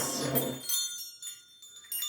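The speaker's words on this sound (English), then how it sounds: "this strand of vintage bells. They're solid brass bells on this ring." A strand of vintage solid brass bells on a ring gives a quiet, brief jingle, then several faint high ringing tones linger and decay, with no talk.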